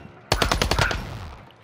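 A rapid burst of automatic gunfire in Call of Duty Warzone, about six loud close shots fired in quick succession that fade into a short echoing tail.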